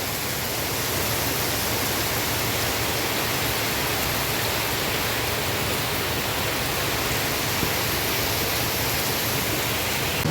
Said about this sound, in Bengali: বৃষ্টির শব্দ শুনতেও বেশ ভালো লাগে।